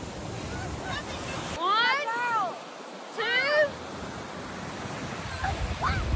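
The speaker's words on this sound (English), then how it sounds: "The waterfall." A waterfall sends a constant broadband rush of water, loud and close, while excited voices rise and fall over it in short swooping cries.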